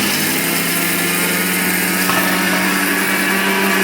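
A mixie grinding masala in a home kitchen gives a continuous loud, close motor whirr with a rough grinding texture, steady throughout the short stretch and with no voices.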